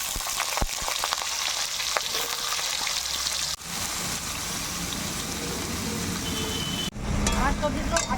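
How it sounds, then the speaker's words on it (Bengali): Mixed vegetables fry in hot white oil in a kadai, a continuous crackling sizzle with stirring clatter, fairly loud and close, shifting briefly as the food is moved. "আমি এখন সবজিগুলো ভেজে নেব।"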